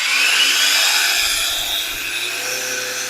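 A Grosser GAG 120N cordless brushless angle grinder spins freely, a loud close high-pitched whine that holds steady and then dips slightly in speed, running alone without talk.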